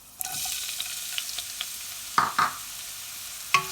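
Curry leaves and finely chopped onion stir-frying in hot oil, a soft continuous sizzle marked by scattered taps and three louder scrapes of a spatula against the pan, close by.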